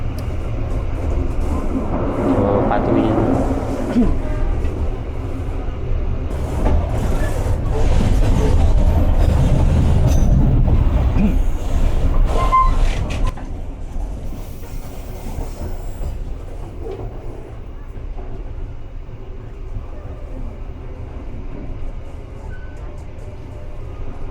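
A Merak local train in Indonesia rumbles along the rails with low wheel noise and faint squeals, loud at first, then fading to a quieter steady roll.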